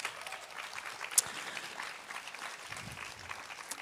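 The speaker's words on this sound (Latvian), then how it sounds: "Aplausus lūdzu" Faint, thin applause from a modest audience at a youth graduation ceremony, light scattered clapping lasting a few seconds at a distance.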